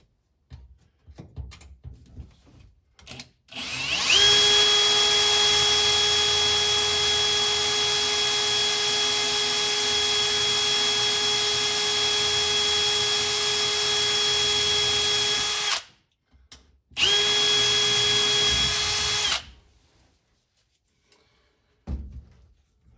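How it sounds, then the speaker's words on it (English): Power drill boring holes through a thin aluminum dash with small bits, running steadily for about twelve seconds, stopping, then a second shorter burst, loud and close with no talking. "We'll get one drilled"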